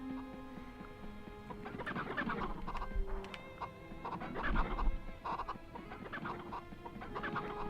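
Chickens cluck and squawk in repeated bursts inside the video game MediEvil, fairly close and moderately loud over a steady background tone, with no talking.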